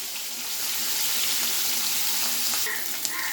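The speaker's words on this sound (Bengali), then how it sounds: "আর একটু ছাঁকা তেলেই ভাজতে হবে মাছটা।" Fish frying in a shallow layer of hot oil in a home kitchen, a steady close hiss and sizzle throughout with faint crackles and a brief clink near the end.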